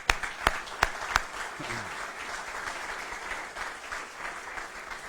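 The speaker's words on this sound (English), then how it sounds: "I want to give him a big round of applause, everybody." Audience at a state health care announcement with the Oklahoma governor applauds; a few sharp, close claps open before a softer, steady wash of clapping continues.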